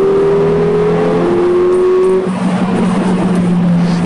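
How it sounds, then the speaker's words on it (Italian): A Mercedes engine roars under hard acceleration on a road, a loud close rising drone that shifts pitch as the car gains speed, with road and tire noise throughout. "Il rombo del motore è sintomatico di una forte accelerazione"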